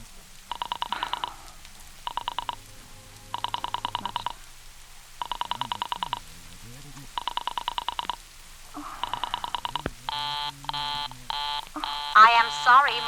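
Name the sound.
telephone dialing in radio drama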